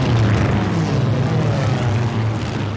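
Real propeller planes fly in for a Pearl Harbor war film, a loud, steady, rumbling engine drone that holds without a break throughout.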